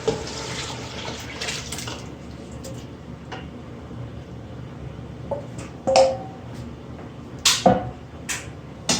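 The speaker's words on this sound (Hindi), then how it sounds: "मैं 1 गिलास ही पानी डालूंगी।" A glass of water is poured into a cooking pot for vegetable pulao, a soft, steady splashing with a few light clinks of the vessel near the end.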